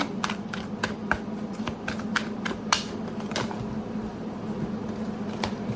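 Cards riffle and snap in quick repeated bursts, a close, crisp shuffling that continues steadily over a soft background hum.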